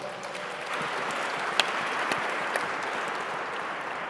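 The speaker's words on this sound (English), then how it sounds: "Please give them a big round of applause." An audience at an elections panel applauds the panelists, a dense, steady wash of many hands clapping with no voices.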